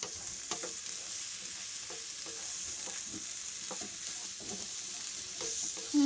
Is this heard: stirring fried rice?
yes